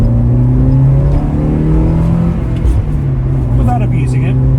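A Porsche 968 with a 3-litre four-cylinder engine accelerates from a cruise, its steady engine drone rising slightly from inside the cabin while someone talks over it.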